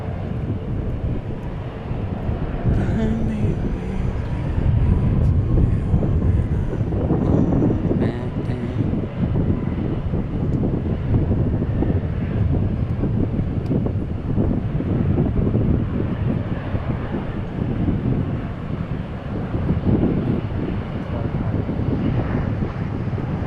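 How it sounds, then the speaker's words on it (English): An Envoy passenger jet landing at DFW International Airport: a steady, loud broadband engine roar with wind rumble that holds throughout, distant and sustained rather than changing sharply. "Landing right now is Envoy 3557 from Oklahoma City"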